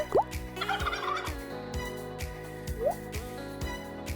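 A turkey gobbles twice, with quick rising calls near the start and again later, over a steady rhythmic backing of soft percussive notes.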